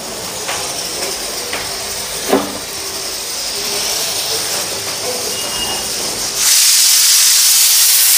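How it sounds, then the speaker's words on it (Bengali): A pressure cooker whistle blasts loudly in a home kitchen, a sudden sustained steam hiss taking over near the end after a stretch of quieter clatter. "এদিকে প্রেসার কুকারের হুইসেলও পড়া গেল।"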